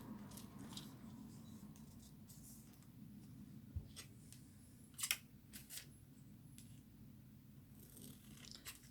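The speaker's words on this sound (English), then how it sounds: "I could trim my foil" Scissors trim foil at the edge of a piece of card: a few faint, quick snips with light rustling in a quiet room.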